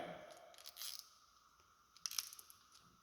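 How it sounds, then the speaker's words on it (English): A plastic zip tie is tightened around a wiring loom during a Genie lift switch replacement, two short, quiet bursts of ratcheting clicks with a pause between them. "with a plastic zip tie."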